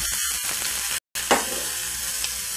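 Venison steak searing in a hot pan over a nice hot fire, a steady close sizzle and crackle running throughout, broken by a brief gap of silence, with a sharper spatter just after it.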